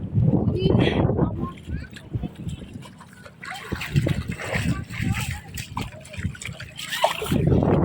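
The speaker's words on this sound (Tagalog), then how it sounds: "malakas yung agos ng tubig dito" A strong river current rushes and churns steadily with splashes throughout, while voices talk and shout over the constant flow.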